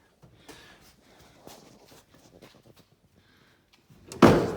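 Faint shuffling and small knocks lead up to a single loud, solid thud as the door of a 1961 Plymouth Savoy two-door sedan slams shut poorly near the end.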